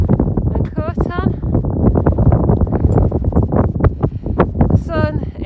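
Strong wind buffets the microphone during a climb up Helvellyn mountain in the Lake District, a steady gusty rumble running beneath a person talking.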